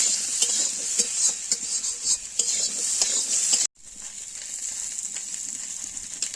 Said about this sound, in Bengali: গাজর, বেগুন দিয়ে ভালোভাবে ভেজে নেব